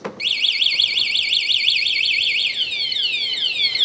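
A loud electronic motorcycle anti-theft alarm siren on a 2023 Honda Super Cub warbles rapidly up and down, then shifts to a series of falling sweeps, steady and close.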